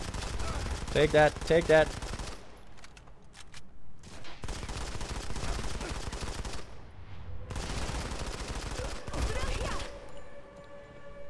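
Gunfire in the mobile shooter Modern Combat 5: Blackout: several loud bursts of rapid automatic fire separated by short pauses, with someone talking over the action.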